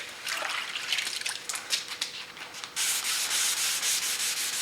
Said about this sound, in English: this time we're going with a finer grain of sandpaper